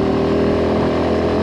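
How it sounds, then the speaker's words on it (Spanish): Motorcycle engine running steadily while riding on modified bikes heading toward rain, a loud continuous drone with a constant low hum and no pauses. "Pues sí, como comentaba Patrick, les hemos hecho modificaciones a las motos."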